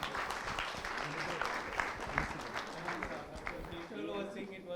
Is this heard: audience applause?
yes